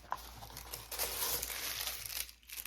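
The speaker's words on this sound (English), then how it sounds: "I got tissue paper." Tissue paper crinkles and rustles close up, with soft irregular crackling bursts that swell in the middle and taper off, no speech.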